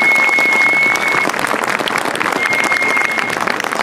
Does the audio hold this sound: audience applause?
yes